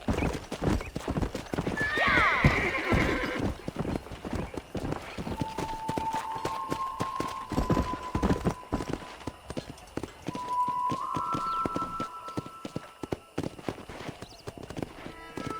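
A horse in the Red Dead Redemption video game gallops with a rapid, continuous clip-clop of hooves, letting out two whinnies along the way, while faint voices sit in the background.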